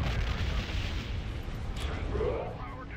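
Massed weapons fire pounds a Dreadnought cruiser in a space battle video game, a dense, continuous low rumble of booms and blasts. Faint talk sits underneath.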